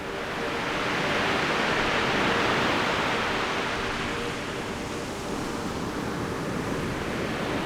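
Indian Ocean waves wash onto the shore, a loud, dense, continuous roar of surf with gentle swells in intensity and no voices.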